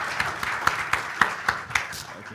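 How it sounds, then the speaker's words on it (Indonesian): A church congregation at a worship fellowship in Makassar claps in a steady rhythm of sharp, evenly spaced hand claps. The sound is moderately loud, with voices mixed in. "Alright, kasih tepuk tangan buat Tuhan Yesus."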